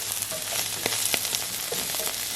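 Brussels sprouts frying in butter in a pan, a continuous close hiss and crackle with a few small pops and light stirring taps.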